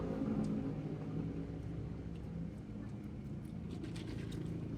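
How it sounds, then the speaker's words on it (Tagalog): Motorcycles on a nearby road heard from a roadside eating spot, a low continuous engine rumble with faint revving swells in the background, no clear speech over it. "may maririnig kayong mga motor"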